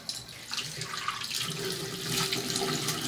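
Tap water runs steadily into a bathroom sink while face cleanser is rinsed off, a close, continuous splashing gush with light irregular splatter and no talking.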